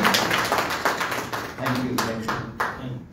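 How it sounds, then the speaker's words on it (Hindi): Audience clapping at a community event for the release of a community magazine at a library, honouring a temple president: a steady run of distinct claps, fairly close, with a voice speaking briefly over them. "आप सब लोगों ने तालियां बजानी है।"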